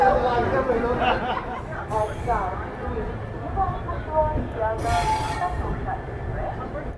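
A Capital Express passenger train on the NJP–Patna route in India rumbles along steadily with clattering carriage noise and occasional squeals, while people chat in the background.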